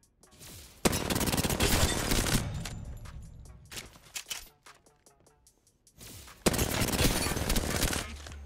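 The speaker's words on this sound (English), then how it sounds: "strafe back and forth and just shoot this dummy with a hip fire" Hip-fire gunshots at a training dummy in Apex Legends, rapid automatic bursts that are loud and dense, with a long volley, a quieter gap of scattered shots, then another sustained burst.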